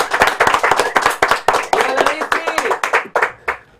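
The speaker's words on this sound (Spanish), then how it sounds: "nuestro aplauso en este momento para ustedes" A studio audience claps for university students, a rhythmic run of sharp, distinct hand claps from a small group, close and fairly loud, with a voice talking over part of it.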